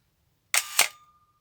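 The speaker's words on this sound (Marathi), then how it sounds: "ज्यावेळेला आपण शटर रिलीज बटन क्लिक करणार त्यावेळेला" A single crisp shutter release on a camera with a horizontal cloth focal-plane shutter: a double-snap click, opening then closing, followed by a short fading ring in an otherwise quiet room.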